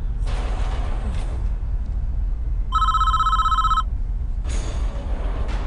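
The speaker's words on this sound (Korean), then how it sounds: "전화 오는 중." Telephone ringing in the Prison Architect video game: a single burst of electronic ring tone about a second long, clear over steady low background noise.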